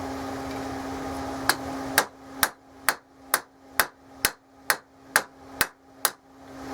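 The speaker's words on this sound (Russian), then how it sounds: "Много бить не надо, иначе будет углубление слишком, ну, оно будет слишком глубоким." A hammer strikes a heated Yakut knife blade during forging, ringing out in about eleven sharp, evenly spaced metallic blows, each decaying quickly, close and loud over a low steady hum.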